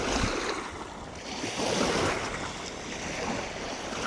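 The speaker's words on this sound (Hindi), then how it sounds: "लहरें किनारों पे आके टकरा रही हैं" Waves wash onto the shore of a river beach, a continuous broadband rush that swells and eases over a few seconds, mixed with wind noise on the microphone and no talk.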